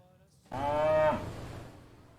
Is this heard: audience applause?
no